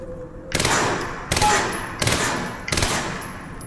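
Four heavy, booming blasts from the Quantum Break video game, spaced roughly evenly and loud and close, each with a broad rumbling decay.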